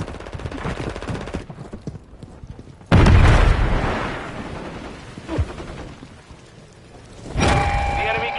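In a multiplayer shooter game, a single loud explosive boom from a grenade bursts in suddenly and decays over a couple of seconds, set amid gunfire and radio voice callouts.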